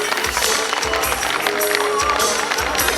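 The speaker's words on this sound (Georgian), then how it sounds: "აპლოდისმენტები გთხოვთ." Audience applause at a stage event, a dense crowd clapping with rhythmic thumps underneath, loud and continuous over the whole stretch.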